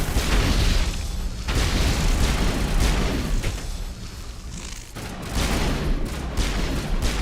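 Gunfire in Mass Effect Legendary Edition blends with heavy booms in a dense, loud, continuous barrage of rapid shots and blasts, with a short lull midway before the firing resumes.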